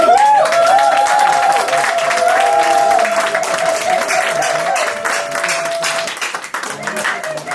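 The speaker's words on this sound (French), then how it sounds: "peut applaudir notre gendre, s'il vous plaît." Guests at a Congolese-style dowry ceremony clap for the son-in-law: a dense, steady burst of crowd applause with a high sustained voice ringing over it, easing off slightly toward the end.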